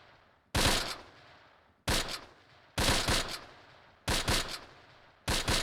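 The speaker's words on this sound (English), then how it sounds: "Artillery inbound." An artillery barrage lands in the WWII strategy game Close Combat: five loud, booming blasts, each arriving about a second apart and trailing off into a rumbling decay before the next hit.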